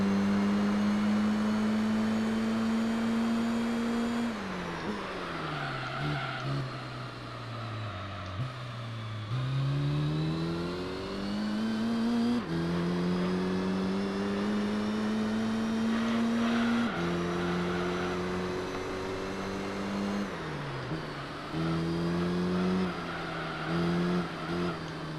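Race car engine in Gran Turismo 3, droning steadily with rising and falling pitch as it accelerates, shifts gears and brakes through corners, loud and close with no talking.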